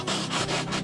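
Rhythmic abrasive rubbing strokes sanding cured epoxy, about three back-and-forth passes, close and steady, with no voices.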